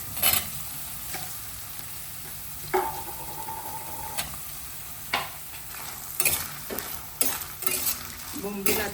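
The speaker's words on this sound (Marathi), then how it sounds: "पावटा मस्त परतले गेलाय आणि आता मी बोंबील टाकते यात" Bombil (Bombay duck) and pavta beans sizzle steadily in a pan, with a spatula scraping and clinking against the metal at irregular moments, close and moderately quiet with no talk.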